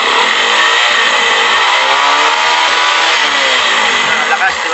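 A Bajaj Rouser 135 motorcycle with a cutting-out problem revs up close and loud, its pitch climbing and easing in smooth sweeps with no stalling.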